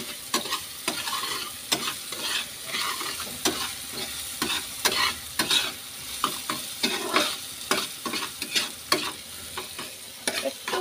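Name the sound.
onions frying in a pan with salt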